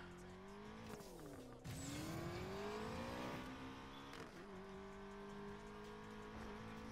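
In Need for Speed Payback, a BMW M5 engine revs and rises in pitch through gear changes, with a brief tire squeal, heard close and continuous with no talking.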